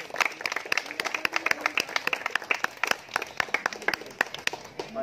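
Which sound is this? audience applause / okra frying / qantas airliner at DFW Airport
audience applause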